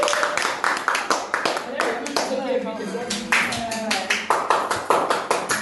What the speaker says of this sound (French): Si vous êtes d'accord, alors applaudissons.